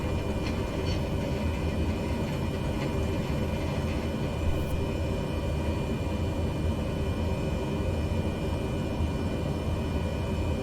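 An airplane in Microsoft Flight Simulator 2020 hums with a steady, even engine drone at night in the Sierra, constant in loudness with only faint, brief ticks over the top.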